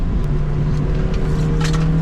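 A stock Mazda MX5 roars around a race track, its engine holding a steady, loud drone close to the listener, with faint wind and road noise mixed in and no voices.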